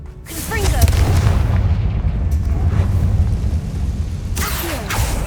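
Confringo blasting spell in the video game Hogwarts Legacy: a deep, rumbling explosion swells early and lingers under continuous battle noise, with a sharper burst near the end and a voice briefly heard.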